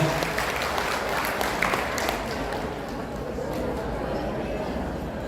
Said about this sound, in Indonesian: Tepuk tangan dong buat ibu ini.